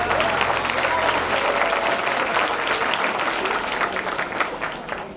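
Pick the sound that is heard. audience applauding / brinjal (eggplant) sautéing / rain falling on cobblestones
audience applauding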